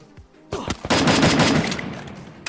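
An enemy in a shooting video game opens fire with a loud, rapid automatic burst lasting over a second, after a few short shots.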